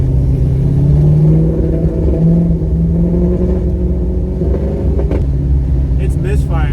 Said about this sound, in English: It's misfiring terribly right now.